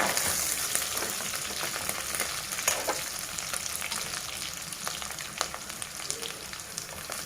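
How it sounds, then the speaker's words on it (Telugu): Dried red chillies fry in hot oil for a Telugu menthi pappu tempering, giving a steady, close sizzle with scattered crackles and pops throughout, no voices. "కొంచెం ఎండుమిరపకాయలు కొంచెం పలపల అని వేగిన తర్వాత"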